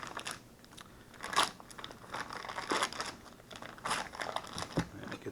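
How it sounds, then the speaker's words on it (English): Plastic packaging around hickory-smoked wild hog bacon is cut and pulled open, giving irregular close crinkling and crackling bursts with sharper rustles scattered through, with no talking. "I'm going to cut the packaging off here"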